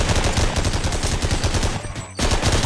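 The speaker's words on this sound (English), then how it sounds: "I kind of like this gun because it fires real slow." Gunfire in the video game They Hunger, a loud rapid series of close shots that runs almost without break, with a brief dip near the end before the firing resumes.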